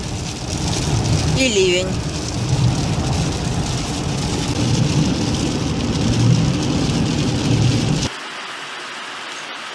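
Heavy rain downpour pours steadily and loudly close by in a tea-growing area, with a brief voice mid-clip and the rain cutting off sharply near the end.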